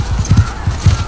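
A horse galloping in the video game The Last of Us Part II: quick rhythmic hoof thuds in repeating bursts, close and fairly loud, with no speech.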